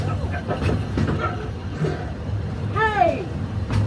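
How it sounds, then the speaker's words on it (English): Magic Kingdom railroad train running on its tracks in a theme park, a steady low rumble of rolling cars beneath animated show voices and a rising sweep of sound effects. "It's a train."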